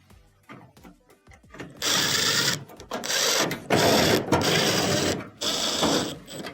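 A power driver runs screws back into the rear panel of a clothes dryer: four or five loud whirring bursts of a second or so each, separated by short pauses, after a few quieter handling knocks.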